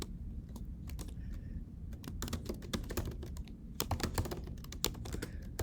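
Rapid, uneven clatter of keys as code is typed on a computer keyboard, close and steady with bursts of louder strokes, no voices.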